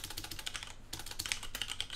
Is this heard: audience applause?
no